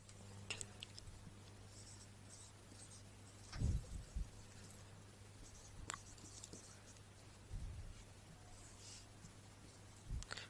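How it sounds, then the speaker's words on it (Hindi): Marker or chalk writing on a classroom board during an English grammar lesson, faint scattered strokes and taps over a low steady hum, with a few louder knocks. "चलिए एक और लिखता हूँ"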